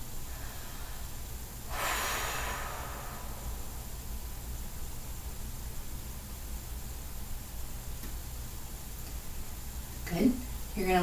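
Slow deep breaths during a hip stretch, with one clear breath early and another near the end, faint and close over steady background hiss.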